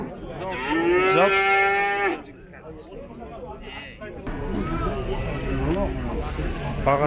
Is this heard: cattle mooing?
yes